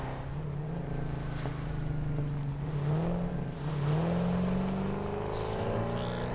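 A vehicle engine in the video game Satisfactory drones steadily while driving, its low pitch rising and falling gently with speed over a constant rumble.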